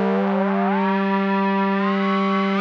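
A synth riser played through an Echobode frequency shifter in Reason rises smoothly in pitch over a steady sustained tone, its upper partials sweeping upward in one continuous, moderately loud pass with no talking.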